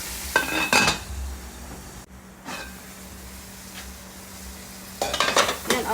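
Chicken sautéing in a pot for sopas sizzles quietly while a utensil scrapes and clatters against the pot in short bursts at the start and near the end, with a steady low hiss between.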